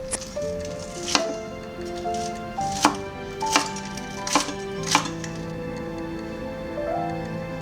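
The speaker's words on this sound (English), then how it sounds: "One scallion, minced." A knife mincing a scallion on a cutting board, sharp repeated chops landing in an uneven rhythm, about seven strikes close up, under soft background music.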